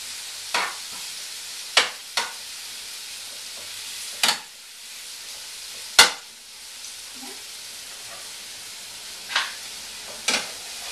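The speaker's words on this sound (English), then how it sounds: "just spreading the mushrooms to add some flavour" Mushrooms sizzling and frying in a pan, a steady hiss broken by sharp scraping stirs every second or two as they are spread around, close and clear with no voices.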